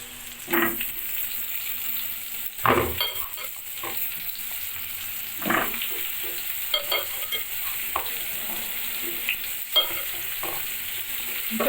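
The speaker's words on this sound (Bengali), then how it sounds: "এখন আমি ফুলকপিগুলোও দিয়ে দিব বন্ধুরা।" Cauliflower pieces sizzle in hot oil for a rohu fish and potato curry while a spatula scrapes and stirs them in repeated strokes over a constant frying hiss, close and moderately loud, with no talking.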